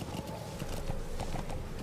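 A horse's hooves clip-clop at a steady walking rhythm in the Metal Gear Solid V video game, close and clear, with no talk over them.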